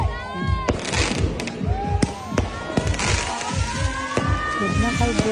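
Fireworks crack and pop repeatedly at a birthday celebration at an island resort, with whistling streaks rising between the bursts while a crowd murmurs and cheers beneath the steady barrage.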